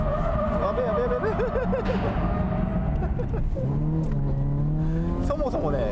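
A car drifts with its tires squealing in wavering, repeated screeches over a loud engine that revs and surges, while voices talk throughout.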